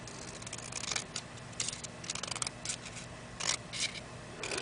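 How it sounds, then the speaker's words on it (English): Scissors cut through a paper card banner for a handmade birthday card, a run of short crisp snips in uneven bursts, close up and fairly quiet, with no one talking. "I'm going to cut that off a little."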